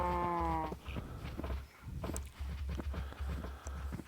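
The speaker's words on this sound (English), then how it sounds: "What we didn't want were the stupid sheep." Sheep in Minecraft bleating in a short wavering burst at the start, followed by softer scattered game sounds, footstep-like taps and a low steady rumble.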